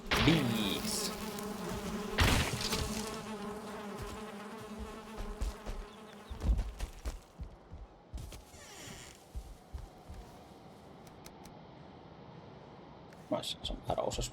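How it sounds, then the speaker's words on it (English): Bees drone steadily in a meadow in the Valheim video game, a close buzzing that fades and returns while a person talks over it. "extra bees."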